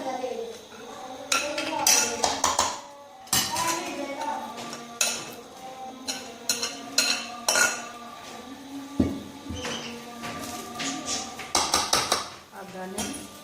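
Rice and chicken tikka being layered in a pot for biryani: spoons and utensils clink and scrape against the cookware in irregular bursts, close by, with a voice talking over parts of it.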